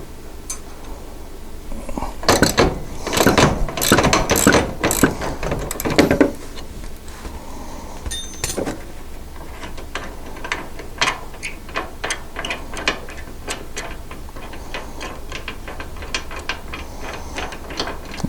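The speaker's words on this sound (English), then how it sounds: "we'll remove the lower bolt as well" A ratchet loosening the lower bolt on a door of a Honda Pioneer 1000 side-by-side, with dense close clicking for several seconds, then slower, sparser ratchet clicks continuing at a steady level.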